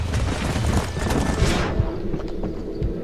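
Horses in the video game Red Dead Redemption, a steady clip-clop of hooves close by with a brief whinny, galloping along before easing off.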